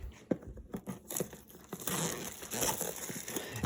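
Plastic-wrapped packaging of a Team Yankee 15mm wargaming model kit being cut and torn open, with close crinkling, crackling and tearing bursts that grow denser and louder toward the end.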